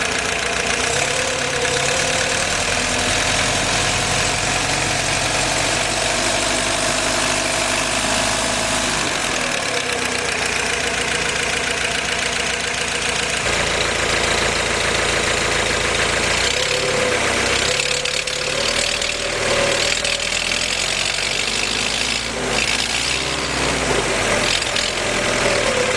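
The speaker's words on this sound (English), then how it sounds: "that about sums up the startup, break-in, and run-in of the engine." Willys F-head engine running during break-in, a loud, close, steady idle with a constant mechanical knock and vibration, holding for nearly half a minute with slight dips and surges in speed.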